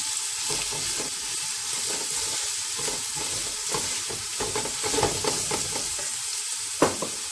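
Onions and green chillies fry steadily in hot oil for a restaurant-style vegetable biryani, a constant close sizzle broken by scraping stirs of a spatula and an occasional sharper clack near the end.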